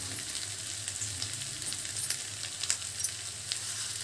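Ginger paste and turmeric sizzle in a frying pan for Andhra egg curry, a soft, steady hiss with a few brief scraping stirs near the middle, fairly quiet and without voices.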